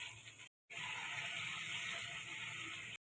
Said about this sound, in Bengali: সামান্য পরিমাণে জল দিয়ে দেব।